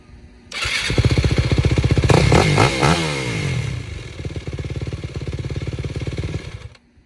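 A WR250 dirt bike with new tires and exhaust cranks and fires up, sputtering rapidly, then settles into a loud, steady idle before cutting off.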